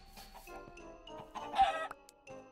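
Chickens clucking in the video game Minecraft, a few short bursts with clucks and squawks close by over faint background sound.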